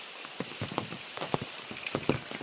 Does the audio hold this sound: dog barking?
no